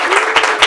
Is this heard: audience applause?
yes